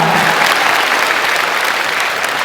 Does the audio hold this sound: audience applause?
yes